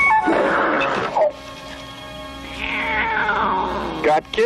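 A mother cat guarding her kittens lets out long, loud, drawn-out yowls that rise and fall, with two wavering calls separated by a brief pause and a short sharp cry at the end.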